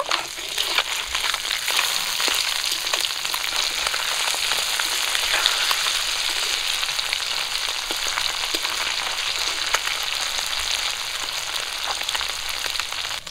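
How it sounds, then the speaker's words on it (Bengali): Small marinated fish that have just been turned over fry in hot oil in a pan, giving a continuous close, dense sizzle with fine crackling spatters throughout and no voices. "মাছগুলো উল্টে দেব।"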